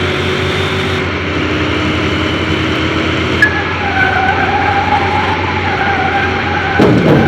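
Race car engine in Car Mechanic Simulator 2021, a heavily tuned 7500 HP drag build, roaring loudly and steadily as it climbs through its gears, with rising pitch sweeps, shifts near the middle and a harsh burst at the end.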